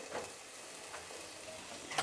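Tomatoes with garam masala and coriander-cumin powder sizzle quietly in a pan for dal dhokli, a soft continuous frying hiss broken by a few light scrapes as the masala is stirred.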